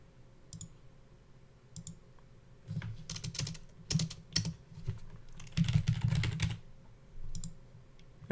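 Computer keyboard typing during a WordPress install on an AWS LAMP server, coming in short bursts of quick clicky keystrokes with pauses between, close and fairly quiet, no voices.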